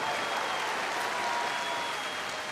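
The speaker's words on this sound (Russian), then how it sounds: "Зал аплодирует тебе." A concert hall audience applauds at the New Wave 2015 festival, a dense, steady wash of clapping that stays loud from start to finish.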